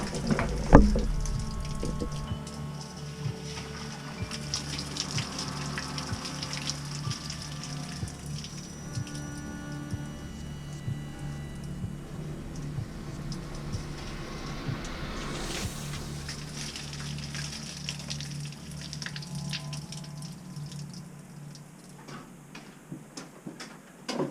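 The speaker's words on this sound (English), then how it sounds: "I'm sure you got to see that flush as I went up and drained it down." Water flushes and drains through a broken cast iron sewer line, a steady rushing, gurgling wash that runs continuously and fairly close, thinning out near the end.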